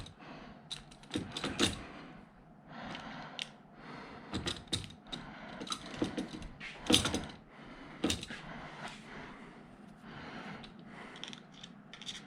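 Close clicks and ratcheting from a wrench tightening bolts on a billet aluminum fire extinguisher mount, coming in irregular bursts of sharp metallic ticks with short pauses between them.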